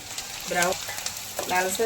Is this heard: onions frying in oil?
yes